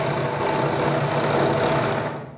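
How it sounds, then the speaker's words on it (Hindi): A sewing machine runs in one continuous steady burst, stitching straight down the center of a fabric neckline, a close, even mechanical whir with rapid needle rhythm that slows and fades at the very end. "बिल्कुल सेंटर में ही आपको नीचे तक सिलाई लगा के लानी है"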